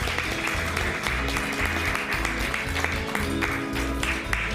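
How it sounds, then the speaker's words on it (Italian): Audience applause at a regional beauty pageant evening in Mestre, a continuous dense burst of clapping over a low, thumping music bed that persists under it. "quindi un applauso per lei."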